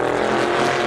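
Engine of a 1966 Ford Mustang Fastback in Assetto Corsa, a loud, steady, throaty drone held for under a second, with no talking.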